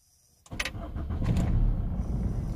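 A car engine cranks and catches after a brief quiet moment, then settles into a steady, loud idle close by, with no one speaking.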